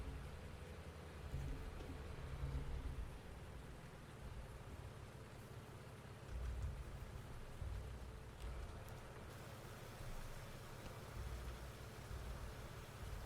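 Rain falls in the Farming Simulator 19 video game as a faint, steady hiss of drops, continuous throughout with a low rumble underneath and no talking.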